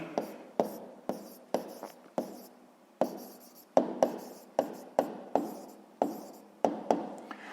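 Pen or chalk writing out a math equation by hand, a series of short scratchy strokes in quick uneven rhythm, close and fairly quiet, with no talking.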